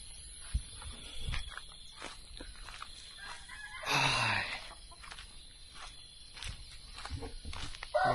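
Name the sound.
rooster crowing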